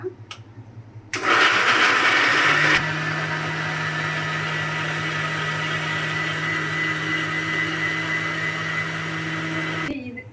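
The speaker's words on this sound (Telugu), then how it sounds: "టమాటో ముక్కల్ని కూడా మిక్సీ జార్లో వేసేసుకుంటున్నాను చక్కగా అయితే దీన్ని అయితే మిక్సీ వేసేసుకుందామండి" A mixer grinder blends tomato pieces into gravy for mutton curry. After a short quiet start, the motor kicks in loud and close, churning with a steady whir for about nine seconds before it cuts off.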